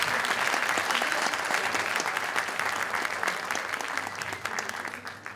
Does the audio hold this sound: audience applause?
yes